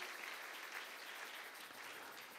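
Congregation in a church clapping together in steady, dense applause that holds at an even level throughout, with no voices standing out.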